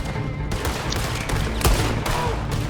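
Gunfire in the Western online game Red Dead Online with a shotgun in use, loud shots cracking out among steady overlapping fire throughout.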